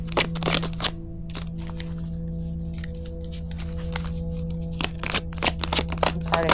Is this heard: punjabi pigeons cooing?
no